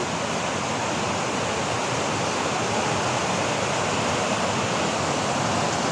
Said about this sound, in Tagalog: Sa mga walang nakaalam dyan, mayroong sapa dire.